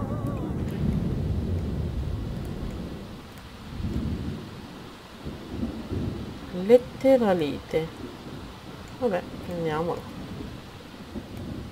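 Rain and rolling thunder from a thunderstorm in The Sims 4, with a sharp lightning crack about midway, continuing under casual talk throughout.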